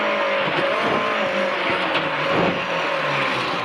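Historic BMW M3 E30 rally car on a tarmac rally stage, engine roaring loud and steady as it brakes hard, with a hint of tyre scrub and skidding mixed into the continuous drone.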